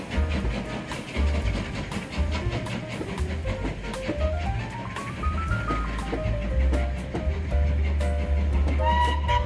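A train pulls out of a station at Keighley, rumbling steadily with low engine drone and rail noise, a rising whistle-like tone sweeping up and down, fairly close and loud throughout.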